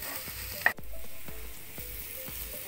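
A short burst of onions sizzling in a hot pan, with a sharp knock near the start followed by steady frying hiss and light stirring taps.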